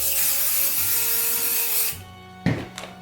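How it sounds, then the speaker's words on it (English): Temporary adhesive sprayed onto embroidery stabilizer from an aerosol can, a steady close hiss lasting about two seconds before cutting off, followed by a sharp handling knock and a few softer taps. "we're just going to start with this hooping by spraying some temporary adhesive on the stabilizer"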